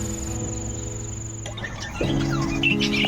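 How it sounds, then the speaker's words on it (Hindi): Birds chirp in the morning along a coastal stretch of southwest India, with high thin calls over a steady insect-like drone; the calls are faint at first and then fuller and closer near the end. "हमारे अगले दिन की शुरुआत होती है सुंदर पक्षियों की मधुर चहचहाहट से।"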